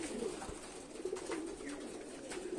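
Giribaz pigeons back from a 14 km toss coo softly nearby, low murmuring calls over a hushed outdoor background.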